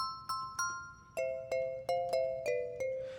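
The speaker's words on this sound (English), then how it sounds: "Comb mallets, what do those sound like?" Comb mallets virtual instrument playing a bright, tropical-sounding melody: about nine evenly spaced plucked, bell-like tuned notes with ringing decays, a higher pair of notes followed by a lower repeated figure, heard alone and close.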